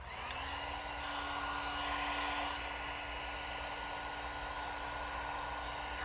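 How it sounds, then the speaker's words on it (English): A heat gun blows a steady, loud rush of hot air with a faint whine against car paint protection film, running continuously throughout. "you can use a heat gun"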